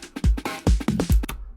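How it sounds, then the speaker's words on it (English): A punchy drum loop pulled into FL Studio, with booming kicks and snappy hits in a quick pattern, loud and alone for about a second and a half before ringing out. "So what I did, I just pulled in this drum loop."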